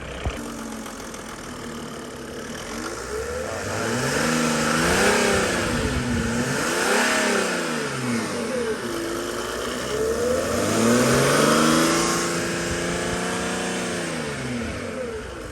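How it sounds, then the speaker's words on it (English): Mercedes E300 engine revving repeatedly up and down through the RPM range, close and steady, with smooth rising and falling engine tones. "I'm gonna just start going up and down in RPM band."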